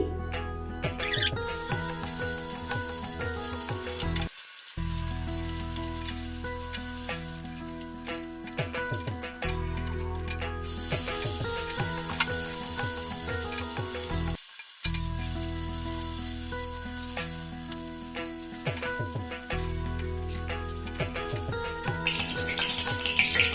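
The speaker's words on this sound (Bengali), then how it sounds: "আমি প্রথমে আগে মাছগুলোকে ভেজে নেব।" Fish rubbed with salt and turmeric fry in hot oil for a Bengali chara fish jhol, giving a steady loud sizzle with crackling throughout, briefly cut twice and without any voices.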